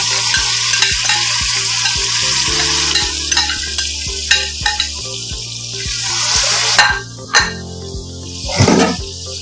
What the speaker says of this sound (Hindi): तब ये चने इसमें डाल देंगे